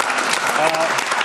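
Studio audience applause on a Serbian talk show, a brisk, continuous burst of clapping close and loud throughout, with no voices over it.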